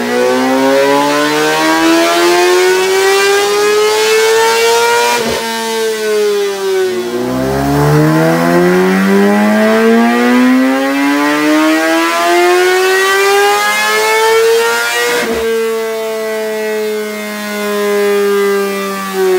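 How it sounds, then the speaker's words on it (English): A 2020 Kawasaki ZX10R drag bike with a slip-on exhaust screams through long revving pulls on a dyno. The loud, sweeping whine climbs steadily, drops, then rises again several times, alone and close. "we're about to dyno it again, see what we get just with the exhaust change"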